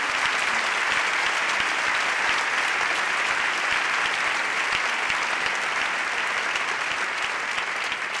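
A theatre audience at a Barcelona arts gala applauds loudly and continuously, a thick, even wash of clapping that holds steady throughout without any speech.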